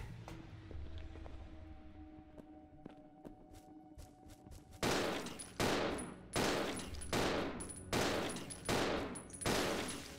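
Gunfire in the survival horror game Resident Evil 0: after quieter clicks and taps, about six loud, evenly spaced shots crack out in a steady rhythm, each with a short ringing tail.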